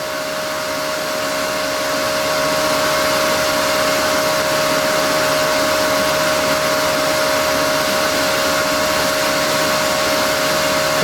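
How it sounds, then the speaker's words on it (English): A buffing pad spins against a wooden diamond painting pen, giving a steady, loud motorized whir with a constant high whine, continuous and alone for the whole stretch with no talk. "hold the pen at a 45-degree angle to the buffing pad."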